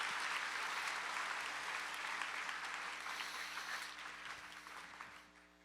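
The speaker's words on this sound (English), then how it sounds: "Let's give another round of applause to both of them" Sustained applause from an audience at a school community assembly, a dense wash of many hands clapping that holds steady before tapering off near the end.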